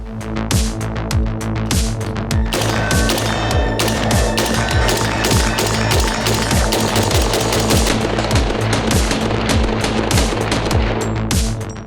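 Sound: AR-15 rifle shots

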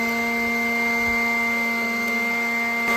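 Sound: Ryobi 18 volt leaf blower running

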